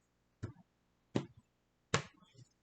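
A deck of tarot cards is cut into piles, producing three sharp, close slaps against a surface spaced about three-quarters of a second apart, each with a short papery rustle and nothing else around.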